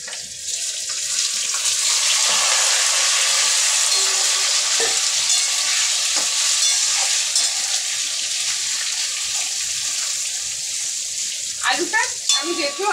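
Raw potatoes, already pressure-cooked for one whistle, go into a pan with green chillies for a vegetarian aloo dum, frying with a steady, close hiss and occasional stirring scrapes that continue throughout, with no talking.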